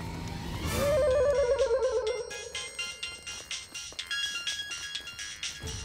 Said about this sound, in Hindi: रुको रुको, मोबाइल बज रही है। पहली बार मोबाइल बज रही है।